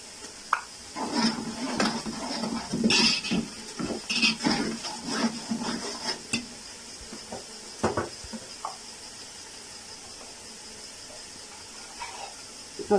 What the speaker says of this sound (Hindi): 30 सेकंड के लिए हम मिर्चों को इस तरह भून लेंगे ताकि इनका कच्चापन खत्म हो जाए।